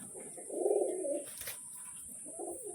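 A pigeon gives a soft, throaty coo, followed by a fainter second coo a moment later, over a constant faint hiss.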